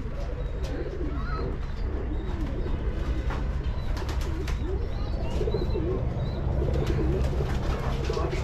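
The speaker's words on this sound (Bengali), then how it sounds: "বিভিন্ন জাতের বিভিন্ন রকমের কবুতর আছে এখানে।" Pigeons of several breeds coo steadily in DC Park, Chittagong, their soft, repeated low calls overlapping against a constant outdoor hum, with occasional faint chirps and no speech.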